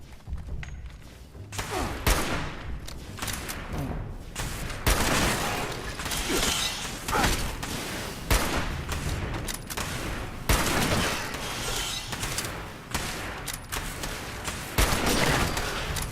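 Gunfire in the video game Fallout 76: a dense, loud run of shots and impacts with repeated sharp bangs and rattling bursts throughout, mostly without talk.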